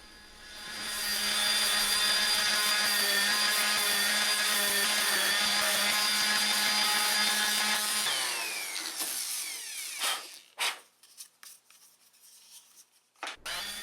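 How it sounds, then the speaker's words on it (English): Orbital sander with high-grit sandpaper smoothing a small wooden gift box and its edges, a loud steady whir for about eight seconds that then winds down into scattered knocks and rubbing. "Now I'm just using the orbital sander with a pretty high grit sandpaper just to give it a smooth finish"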